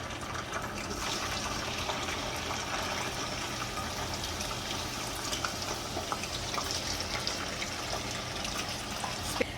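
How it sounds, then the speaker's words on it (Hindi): Green chips frying in hot oil give a steady, dense sizzle that holds evenly throughout, close and fairly loud, with no talk over it. "अब इन्हें भी हम गरम ऑयल में शामिल करके फ्राई कर लेते हैं।"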